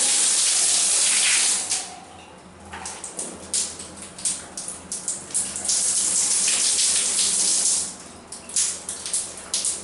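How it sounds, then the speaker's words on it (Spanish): Water streams steadily from a shower pipe in a bathroom with white painted walls, a loud continuous hiss that dips briefly and returns with splashing irregular spurts, no voices. "sale agua de la parte del tubo de la ducha"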